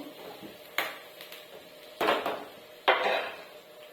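Chopped onions stirred in a pan for Telugu-style egg curry, with a few distinct scraping clanks of a utensil against the pan over a soft background, spaced about a second apart.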